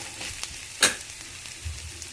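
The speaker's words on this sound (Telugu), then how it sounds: "మునగాకు కూడా వేసేసి ఒకసారి కలిపేసుకొని" Moringa leaves sizzle in a pan for a wood apple chutney, a soft, steady crackle with one sharp scrape or toss of stirring near the middle and no voices.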